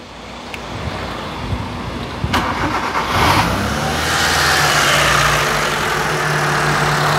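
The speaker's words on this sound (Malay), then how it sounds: "Okey, so kita akan start kereta ni" A car engine cranks and catches, then settles into a steady idle that runs on, close and loud, with a faint click beforehand and no talk.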